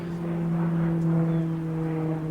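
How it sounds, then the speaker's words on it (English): An airplane passing overhead in the woods at night, a steady droning hum with low tonal engine bands, moderately loud and unbroken, no voices. "I'm just going to let this plane go."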